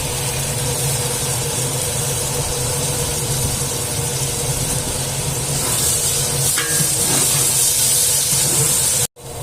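Curry leaves dropped into hot oil for a tamarind kara kuzhambu, giving a steady, loud sizzle and hiss that runs throughout and cuts off abruptly near the end.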